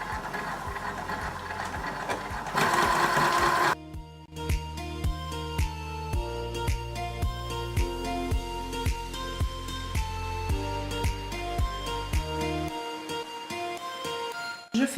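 A sewing machine runs in steady, repeated bursts as it stitches a seam on a small fabric origami lingerie pouch, starting and stopping several times.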